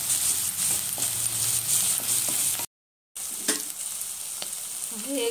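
Chopped green chillies fry in a pan for a tamarind fish curry, a continuous close hissing sizzle with occasional scrape and stir clicks and a brief silent gap partway through.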